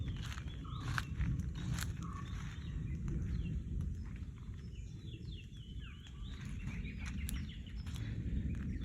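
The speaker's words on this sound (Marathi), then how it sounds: "पक्ष्यांचा वगैरे आवाज येतोय" Birds call and chirp faintly in a forest in the Konkan region over a steady low rustling background, with no voices.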